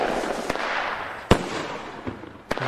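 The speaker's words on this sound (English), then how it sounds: "Really like the brake explosion." Proline-brand fireworks from the video game Fireworks Mania crackle under a continuous sparkling hiss, punctuated by several sharp bangs, one notably louder near the middle.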